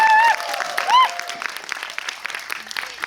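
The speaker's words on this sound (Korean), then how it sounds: "박수 쳐주셔도 돼요." Audience at a film screening Q&A applauds steadily in a hall, dense clapping throughout with a few brief whistles or voices near the start.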